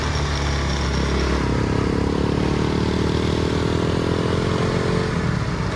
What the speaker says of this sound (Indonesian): Motornya Pak Asis untuk dalam nanjak-nanjak kayak sini